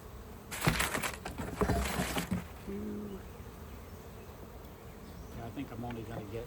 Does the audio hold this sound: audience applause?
no